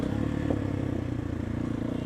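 A Motorhead Sports 250 dirtbike engine running while being ridden, giving a steady, close mechanical drone with a rapid pulsing rhythm and no speech, heard briefly and alone.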